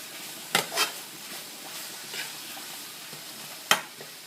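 Ground beef for empanadas cooking in a pan, a soft steady sizzle broken by a few sharp scrapes and clacks of a utensil stirring and breaking up the meat.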